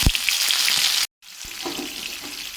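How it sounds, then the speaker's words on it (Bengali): Grated ginger goes into hot oil in a wok already seasoned with cumin seeds and dried red chillies, giving a loud, close broadband sizzle that breaks off abruptly, then returns as a softer hiss with a few clinks. "এরপরে এতে গ্রেট করে রাখা আদাটা দিয়ে"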